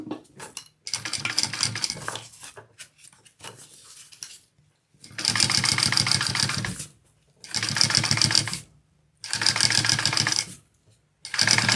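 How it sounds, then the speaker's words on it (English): Sewing machine top stitching two fabric pieces, running in four steady loud bursts of fast whirring stitches separated by short pauses, after a stretch of quieter handling and rustling at the start. "now we're going to top stitch these two"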